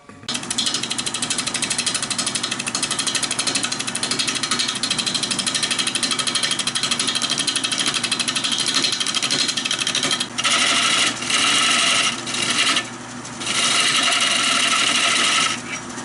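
A steady, loud scraping hum of a lathe tool cutting a redbud wood bowl, continuous and close with a brief change in tone near the end, no voices.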